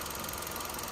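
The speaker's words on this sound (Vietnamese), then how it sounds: "máy nổ êm, chạy êm" Automatic 2011 Hyundai Accent engine idles smoothly, a brief steady hum with even low vibration and no voices.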